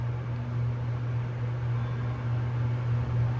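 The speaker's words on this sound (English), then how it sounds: "We can hear the motor, but the fan is like literally overpowering it." A steady low hum from the fan and motor inside a hydraulic scenic skyway elevator at an airport terminal, continuous and even throughout with no talking.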